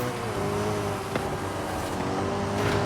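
A Ferrari race car in Forza Horizon 5 roars past close by, its engine note loud and sustained with a sharp swell in the middle and a rising rev near the end.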